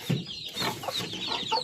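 Chickens in a small backyard coop cluck in a brief, busy burst of overlapping calls, fairly close and moderately loud with no talk.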